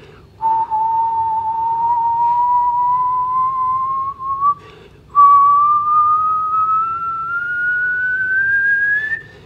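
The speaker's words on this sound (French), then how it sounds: "Si je produis un son, un sifflement, dont je vais faire changer la fréquence" A single clear whistled tone glides slowly upward in pitch, breaks off briefly, then resumes and keeps rising, loud and close.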